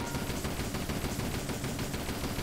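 Toy soldiers' gunfire in Toy Soldiers HD, a World War I tower-defense game: loud, continuous rattling bursts of machine-gun fire filling the whole stretch without pause.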